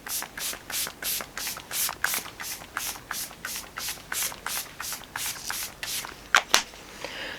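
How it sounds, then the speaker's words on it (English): Repeated quick pumps of a Body Shop All Day Long setting spray misted onto a face, about fifteen short hissing bursts in a steady rhythm, close and clear, with no talk. "one is the Body Shop All Day Long by Face setting spray"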